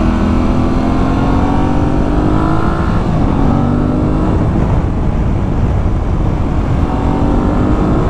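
An Aprilia Tuareg 660 adventure motorcycle with roughly 80 horsepower roars loudly on a test ride, its engine note rising and falling through gear changes over heavy steady wind rush, with no talk.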